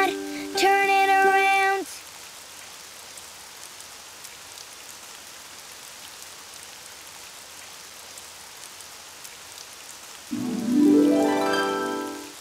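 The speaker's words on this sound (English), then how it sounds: "It's raining outside." Light rain falling outside, a soft, continuous patter heard faintly in the background between bursts of cartoon music and a singing voice.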